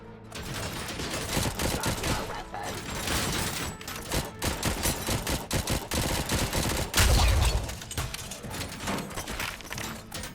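Rifle gunfire in the video game RoboCop: Rogue City, rapid dense bursts of shots with mechanical clatter over game sound, loud and continuous.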